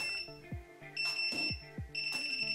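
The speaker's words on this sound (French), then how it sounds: "Le nombre de bips d'une série décrira le nombre de billes qui seront tirées." Several electronic beeps from the fire-mode selector of a Classic Army PX9 airsoft gun sound in short bursts, sharp high-pitched tones with small clicks between them, close and clear with no talking.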